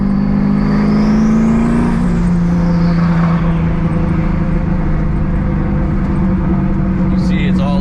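A big turbo Camaro, a project car with loose, wandering handling after an alignment, drives with a loud, steady engine drone that dips in pitch and then holds level, close and continuous.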